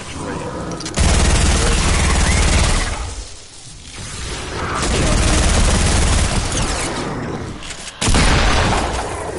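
Video game gunfire, apparently from Fortnite, as loud continuous bursts of shots and booms with a dip in the middle and a sudden fresh volley near the end, all dense and close.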